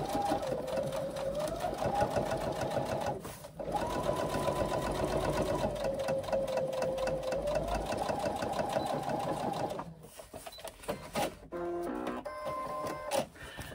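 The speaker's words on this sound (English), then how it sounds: "do an extra row of stitching just into the seam allowance from the seams that you've already done" A sewing machine runs an extra row of stitching through a seam allowance beside an earlier seam: a steady mechanical whir with rising and falling pitch, two short pauses, and a few clicks and taps near the end. No one speaks.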